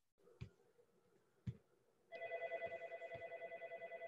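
A telephone rings steadily at moderate level in a quiet room during a council meeting, its repeating electronic trill pulsing evenly after two sharp knocks.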